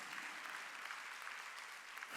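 A church congregation at a Sunday worship service claps together, a faint, steady wash of applause heard from a distance with no voices over it.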